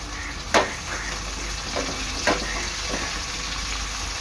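Onion and tomato fry for prawn biryani, giving a steady soft sizzle with a few sharp clinks and scrapes of stirring over it.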